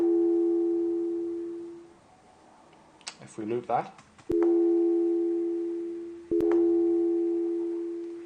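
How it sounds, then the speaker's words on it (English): A synthesized 808-style tom drum made in Reaper hits twice, each a sharp attack with a long, slowly decaying pitched tone; a voice speaks briefly between the hits. "You can hear, maybe the 808, the original 808 tom sound."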